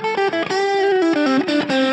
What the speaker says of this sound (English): I think this is a little bit more overdriving.